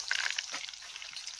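Chicken 65 frying in a kadhai, a soft steady sizzle of hot oil with a few brief sharper crackles at the start, quiet and close.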